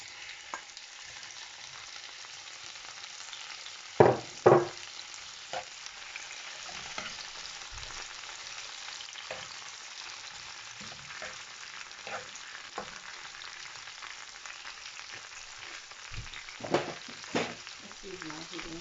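Tomatoes frying in a pan for Jamaican ackee and saltfish, a soft steady sizzle with a few louder clatters and scrapes of stirring, no talking.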